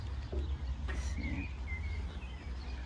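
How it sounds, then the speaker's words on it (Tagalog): Birds chirp and whistle in Masterton, New Zealand, a few short calls over low outdoor background noise at moderate distance. "maririnig niyo yung ibon. Grabe."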